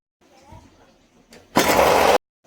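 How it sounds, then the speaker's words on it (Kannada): A mixer grinder runs in one loud, steady burst of just over half a second, grinding ginger, garlic and green chillies into a fine paste, after a stretch of quieter low handling noise. "ಇವಾಗ ಒಂದು ಮಿಕ್ಸಿ ಜಾರ್ಗೆ ಶುಂಠಿ ಬೆಳ್ಳುಳ್ಳಿ ಹಾಗೆ ಹಸಿಮೆಣ್ಸಿಕಾಯಿನ ಹಾಕ್ಕೊಂಡು ನುಣ್ಣಗೆ ರುಬ್ಕೊಳ್ಳೋಣ"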